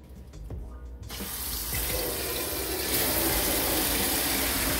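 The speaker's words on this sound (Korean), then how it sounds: "상추를 씻어 보겠습니다." Lettuce washed under a running kitchen tap, a few light clatters and then a strong, steady rush of water that grows louder and continues without a break.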